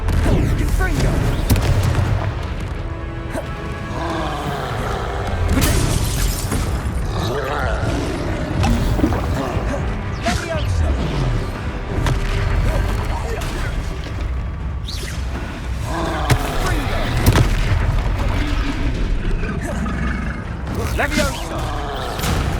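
Repeated Confringo fire-spell explosions in the Hogwarts Legacy video game, booming blasts and whooshes recurring throughout amid other game combat effects, with spoken spell incantations between them.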